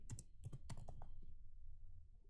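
Quick clusters of keystrokes clatter on a computer keyboard during console work, in close, quiet bursts that stop after about a second, with no talking over them.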